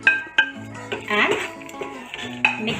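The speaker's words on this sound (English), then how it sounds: "mix it nicely with white sauce" A spoon scrapes and clinks against a pan while cooked vegetables are stirred into white sauce pasta, with sharp metallic knocks at the start and end and steady scraping in between, close and fairly loud.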